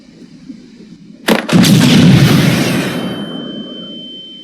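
A flashbang grenade goes off in an Unreal Engine 5 game: a sharp double bang after quiet, then a loud roaring blast that decays slowly with a thin ringing tone trailing off.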